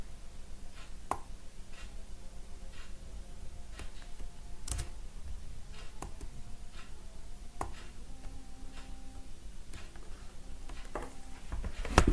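Typing on a computer keyboard, a quiet steady run of soft key clicks with occasional sharper taps, heard alone against low room hum.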